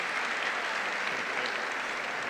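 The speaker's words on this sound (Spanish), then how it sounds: "Un aplauso, Carmen." A short, steady burst of audience applause at a fifth-anniversary event, moderately loud and evenly textured throughout.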